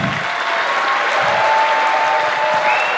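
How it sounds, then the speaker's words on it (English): Applause at the Ockham Awards 2022 as Michael Marshall comes up, a strong, continuous round of clapping from the audience that holds steady throughout. "Keep that round of applause going for Michael Marshall."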